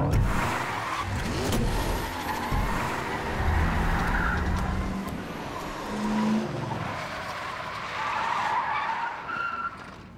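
Car drifting through a 180-degree stunt turn during movie stunt driving, loud skidding tire squeals over engine revving, rising and falling in several bursts with no talking.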